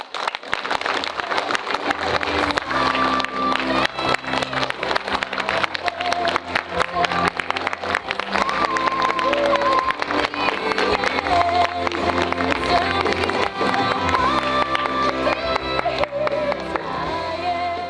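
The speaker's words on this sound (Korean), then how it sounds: "박수로 환영해 주세요" A cinema audience at a screening of Save the Green Planet (2003) warmly applauds the arrival of the director and actor. The dense, sustained clapping runs nearly eighteen seconds over faint tonal background music.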